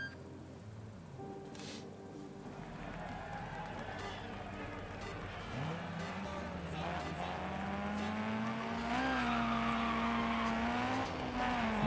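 Rally car engine in the DiRT Rally video game driving an Escort, a steady droning engine note that rises in pitch as it revs up, heard fairly quietly with a brief gear change shift near the end.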